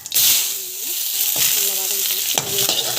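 Cumin seeds frying in hot oil for a healthy protein-rich tiffin, a loud close hiss and crackle that flares up in bursts as food or spoon is stirred through the pan.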